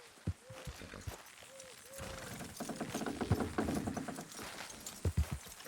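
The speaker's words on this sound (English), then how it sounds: "Horses will pull it clean down." Horse hooves clop unevenly alongside creaking, ratcheting mechanical sounds as horses pull something down in Red Dead Redemption 2, with a few short vocal grunts, moderately quiet.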